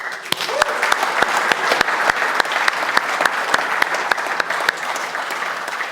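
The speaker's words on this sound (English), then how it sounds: "Let's have a rapturous round of applause for our first speaker" Conference audience gives an enthusiastic round of applause, a continuous dense clapping from a crowd with a few sharper individual claps standing out, steady throughout.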